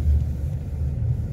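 Low, steady car engine rumble from inside a vehicle pulling away, a heavy continuous drone with slight surges, loud and close with no talking.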